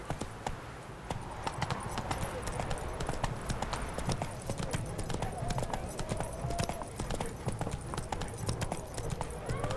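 A horse galloping in The Witcher 3: Hearts of Stone, a dense, continuous clatter of hoofbeats close up at a fast pace, with a voice speaking over it.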